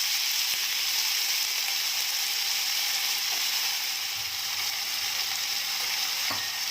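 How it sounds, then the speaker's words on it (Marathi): Drumsticks and brinjal sautéing in a pan give a steady, dense sizzle that holds level throughout, close and loud, with a couple of faint clinks of a spatula and no talk. "चांगली परतून घ्यायची शेंग शेंगी आपल्याला"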